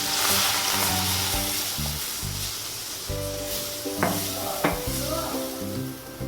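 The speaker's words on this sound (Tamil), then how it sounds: "நான் 1 கப் அளவு பால் ஆட் பண்ணிக்கிறேன்" Milk is poured into a hot ghee and milk-powder mixture, setting off a loud, dense sizzle with crackling bursts, while a faint melodic tone plays underneath.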